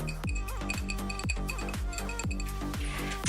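Repeated bright clinks of a glass Voss sparkling water bottle tapping glass, a quick irregular series of ringing chimes close by.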